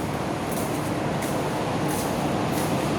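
A metro train runs past with a steady, loud broadband rumble and rail roar that holds unbroken for the whole stretch, with no voices over it.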